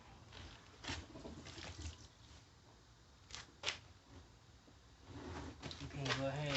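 Water from a washing machine tilted over to empty its pump splashes and trickles out unevenly with faint gurgles and small bursts, growing slightly stronger toward the end.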